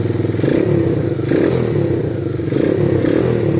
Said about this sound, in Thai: ผมสตาร์ทเครื่องที่รีโมทได้เลย